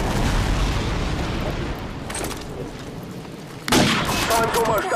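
Airstrike explosions in the Call of Duty 4 multiplayer video game roll as a continuous rumbling barrage, with a sharper, louder blast near the end.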